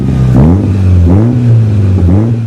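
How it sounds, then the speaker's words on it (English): A Subaru WRX STI boxer engine revs up in repeated rising bursts, loud and close, its deep burbling rumble climbing and falling three times without any talk. "The rumble of the Boxer engine that makes a 4-wheel drive car a great sounding car"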